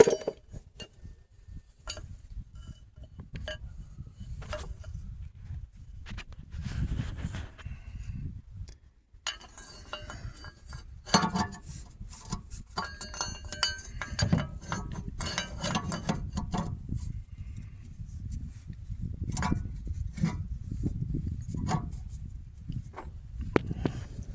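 A metal fork on a long pole clinks and scrapes under a 2003 Jeep Liberty Sport 3.7L V6 during rear control arm work, with scattered close metallic taps over a steady low rumble and no talking.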